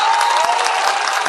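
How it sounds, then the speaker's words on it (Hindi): Loud, dense applause from the crowd at an Imran Pratapgarhi mushaira for the organising committee, continuous clapping with a faint hint of cheering and a sustained tone running through it. "मैं चाहता हूँ कि एक बार जोरदार तालियां इस मुशायरा कमेटी के लिए बजा दें।"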